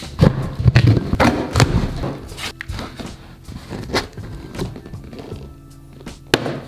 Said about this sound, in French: on va ouvrir le gros paquet